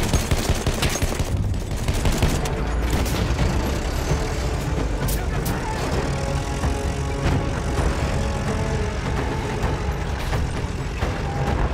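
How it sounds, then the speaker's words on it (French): Enemy machine gun fire in Battlefield 1, a loud continuous fusillade of rapid bursts mixed with engine rumble and battlefield din that fills the whole stretch, with a voice briefly calling out over it. "Présence d'une mitrailleuse. Mitrailleuse ennemie, par là."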